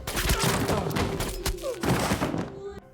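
Sniper gunshots in a tense action scene from Daredevil: Born Again, a series of sharp cracks and thuds over a dense, noisy soundtrack, with one last distinct shot near the end.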